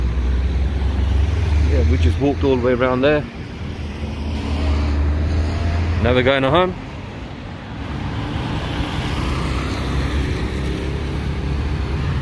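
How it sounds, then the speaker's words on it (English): Steady traffic rumbles along Las Americas, a busy main street in Xela (Quetzaltenango), Guatemala, with cars and trucks passing continuously. People talk briefly over the road noise at two points. "See, there's loads of traffic."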